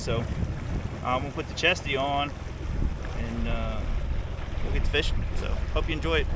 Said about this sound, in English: Sorry for any wind noise you get today.